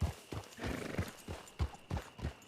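A small horse's hooves clip-clop in a steady, close rhythm of repeated thuds, with a faint whinny and light background noise.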